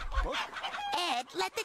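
Cartoon chickens in Ed, Edd n Eddy cluck and squawk nearby in a short, busy burst of overlapping calls, fairly loud with no voices.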